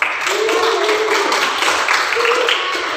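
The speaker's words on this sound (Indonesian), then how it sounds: "tepuk tangan lebih baik ya" A classroom of students clapping their hands together during a lesson, a continuous, even wash of applause lasting a few seconds, fairly loud, with faint voices mixed in underneath.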